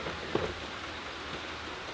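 Steady rain falling outdoors during a storm, a soft continuous hiss of drops with one brief louder patter near the start, moderately quiet and without voices.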